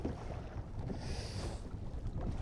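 Wind gusting at sea off Newbiggin, Northumberland, during a winter kayak fishing trip, a steady broadband rush with microphone buffeting and water noise, with no one speaking.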